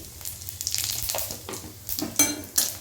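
Bay leaf, dried chili and cumin spluttering in hot oil produce bursts of sizzle and crackle with a few sharp pops, close up and with no voices.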